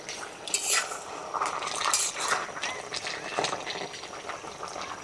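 A lid lifts off a cooking pot of crab curry with potatoes, giving a few close metallic clinks and scrapes over a soft, steady bubbling simmer.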